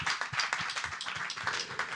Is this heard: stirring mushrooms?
no